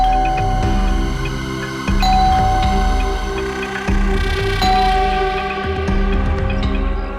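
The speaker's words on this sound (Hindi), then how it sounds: "जाओ, डोरबेल बजाओ" A doorbell rings inside a house in a Hindi crime drama, its repeated ding-dong chimes sounding loud and clear with resonant tones and no talk over them.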